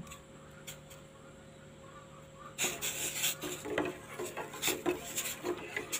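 Toothpaste being stirred into water in a bowl, a busy run of scraping, clinking strokes that starts abruptly partway through and keeps a steady, uneven rhythm close by, with no talk over it.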